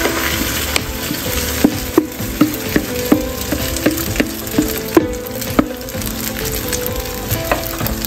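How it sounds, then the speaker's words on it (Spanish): Potato omelette mixture for Spanish tortilla de patatas fries in a very hot pan with no oil, giving a steady close sizzle broken by regular light clicks and taps of a utensil stirring against the pan. "Una vez bien caliente la sartén, pues agregamos nuestra tortilla todavía sin aceite."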